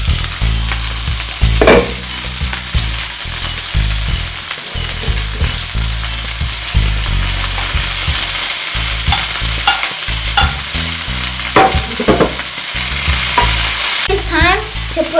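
A vegetable stir fry sizzling loudly and continuously in a pan as broccoli goes in, with dense close frying hiss and occasional spatula knocks and scrapes.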